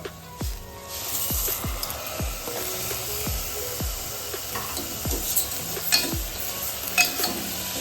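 Green moong beans added to a pan of frying masala paste and stirred: soft sizzling throughout, with a regular series of spoon scrapes against the pan, close and without talk.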